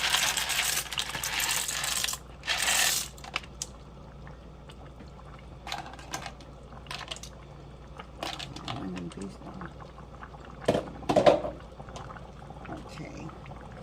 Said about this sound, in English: I'll be putting the macaroni in first.